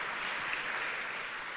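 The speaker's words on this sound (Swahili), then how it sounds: "Tuwapigie makofi wa viongozi wetu." A church congregation applauds its leaders. The clapping is a steady, dense crowd patter that sounds somewhat distant and fairly soft, and it is heard alone.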